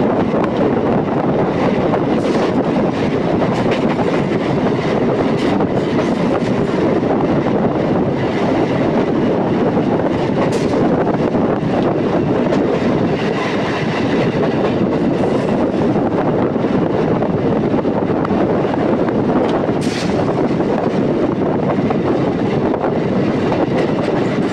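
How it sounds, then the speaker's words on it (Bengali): A Howrah–Tarakeswar EMU local train runs at good speed, a steady loud rumble of wheels on rails with wind buffeting throughout, heard from on board for the whole stretch. "ট্রেনটি লোকাল ট্রেন হলেও বন্ধুরা, তোমরা দেখতে পাচ্ছ ট্রেনটির গতিবেগ কিন্তু যথেষ্ট ভালো।"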